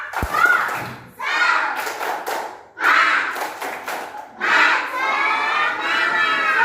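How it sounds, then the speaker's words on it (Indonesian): A class of children in a school lesson performs a spirit clap, bursts of shouting and clapping in short rhythmic groups, loud and close, with crowd-like voices between the claps. "Sebelum presentasi, supaya lebih semangat lagi ya. Lebih semangat lagi ya, minum ya. Tepuk semangat."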